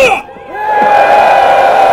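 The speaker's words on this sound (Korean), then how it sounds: "다 같이 함성!" A crowd at a South Korean political protest rally lets out a brief, loud collective roar of shouting that swells after a short dip and holds near and strong.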